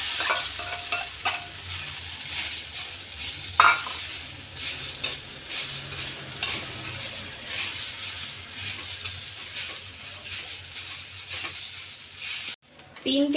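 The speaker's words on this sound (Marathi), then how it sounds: "मंद गॅसवर भाजलेलं आहे हे आपण ओलं खोबरं" Grated fresh coconut roasting in a spoonful of ghee over low flame, a steady soft sizzle with scraping stir strokes in the pan, ending in a brief clatter.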